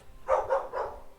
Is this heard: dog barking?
yes